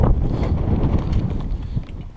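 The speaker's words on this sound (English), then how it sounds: "That wind is whipping." Gusty wind buffets the microphone on an exposed Adirondack High Peaks mountain trail, a loud, continuous low rumble that swells and eases over a couple of seconds.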